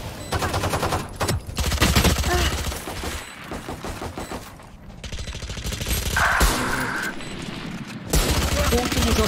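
Bursts of rapid gunfire from the tactical shooter Valorant, loud volleys that start and stop several times, with game effects and some talking mixed in.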